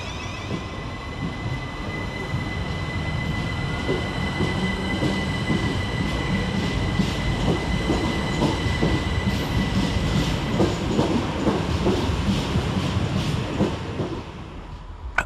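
Southern Railway class 377 electric unit 377454 departing Redhill station, a steady rumbling run with faint wheel squeal and rail clatter and a thin electric whine holding throughout, close and continuous until it eases at the end.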